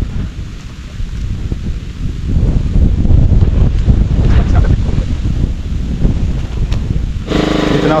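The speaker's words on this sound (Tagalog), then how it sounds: "Hangin." Strong wind buffets the microphone in low, blustery rumbles that swell and stay loud, with a brief brighter rustle near the end.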